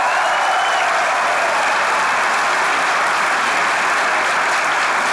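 Sustained applause from a large theatre audience, steady and dense clapping filling the whole stretch without pause.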